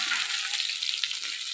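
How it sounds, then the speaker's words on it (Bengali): Bam fish (eel) frying in hot oil in a village kitchen, giving a steady, close, bright sizzle with no pauses and no talking. "এই দেখেন মাছ কত সুন্দরভাবে ভাজা হয়ে গেছে।"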